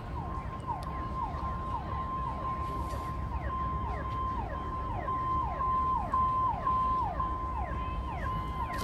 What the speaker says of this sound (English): sounds like a water police boat